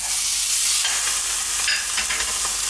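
A ground beef patty fries in sunflower oil in a pan, giving a loud, steady, close sizzle with faint crackles and spits throughout, no voices.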